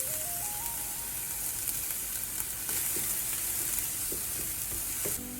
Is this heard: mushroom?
yes